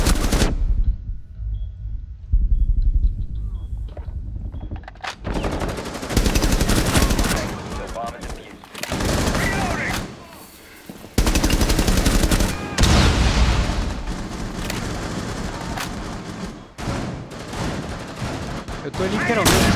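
Rapid, loud automatic gunfire bursts from Tom Clancy's Rainbow Six Terrorist Hunt mode, close and dense with brief pauses, a voice talking intermittently over the shooting.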